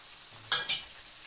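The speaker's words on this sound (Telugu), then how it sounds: "ఇప్పుడు ఉల్లిపాయ ముక్కలు వేసుకుందాము. ఇందులోనే కరివేపాకు కూడా వేసుకుందామండి." Onion pieces and curry leaves dropped into hot oil for flattened-rice upma, giving two short bursts of sizzling frying close up, then a softer steady crackle with light stirring and no talk.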